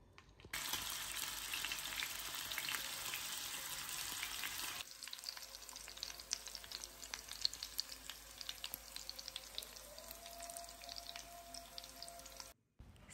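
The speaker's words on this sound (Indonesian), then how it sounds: "ayam yang sudah kita rebus tadi kita goreng seperti ini" Boiled chicken fries in a pan, sizzling and crackling loudly at first, then softer with scattered pops and bubbling, heard up close and without any talk.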